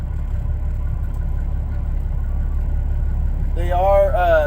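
Heavy truck engine running, a steady low rumble throughout, with a voice talking over it toward the end.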